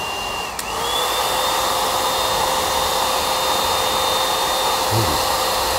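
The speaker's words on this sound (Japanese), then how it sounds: "ドライヤーで" A hair dryer blows warm air onto permed hair, a loud continuous whooshing roar with a steady motor whine that briefly dips near the start then holds constant, with no talking.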